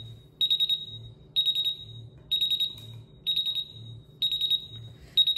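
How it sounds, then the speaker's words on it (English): An MGT Senko gas detector alarm going off after gas is applied to the unit, repeating shrill electronic beep bursts in a steady rhythm, about six close, loud pulses with a low hum beneath. "By applying some gas on the unit, you would see relatively quick alarms"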